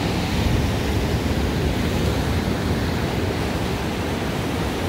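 Ocean waves surging up a rocky, eroding shoreline in California, a broad continuous roar of surf mixed with wind buffeting the microphone, loud and close with no voices.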